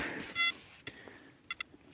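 A handheld metal detector sounds faintly during a search for coins: one short sustained electronic tone, then a quick pair of sharp beeps against a quiet outdoor background.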